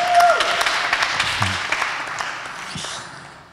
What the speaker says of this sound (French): Et des applaudissements pour chacun d'entre vous